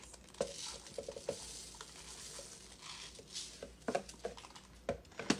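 A wooden spoon stirs sprinkles into a popsicle mixture in a bowl, giving soft scraping, pattering and occasional clinks at close range, fairly quiet with no talk.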